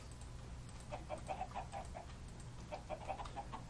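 Chickens in the video game Beyond the Void 2 give soft, short clucks in two small bursts over a low steady background hum, fairly quiet and close.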